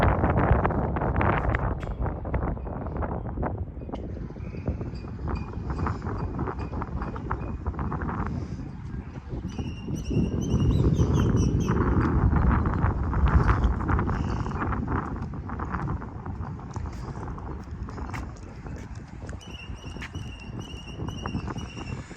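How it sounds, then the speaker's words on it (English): Wind gusts across a microphone outdoors at a campground veterans memorial, a fluctuating low rumble that swells and fades over about twenty seconds, with scattered clattering taps and faint tonal sounds. "So it's a little windy."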